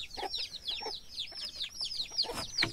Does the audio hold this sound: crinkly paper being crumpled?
no